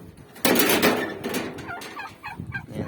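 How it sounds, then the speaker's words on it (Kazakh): Turkeys from a flock of eleven hens and two toms gobble in a quick run of warbling calls, close and fairly loud, with a few shorter gobbles following in a quiet barnyard setting. "Күрке тауықтар."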